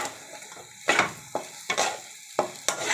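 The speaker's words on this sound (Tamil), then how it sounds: "இதை அப்படியே ஸ்டவ்லேயே வச்சு நம்ம பரட்டி எடுத்துக்கலாம்." Chow chow, a chayote squash, is stir-fried in a pan on the stove, giving a low sizzle broken by four or five sharp scraping stirs of a spatula, close up with no talk.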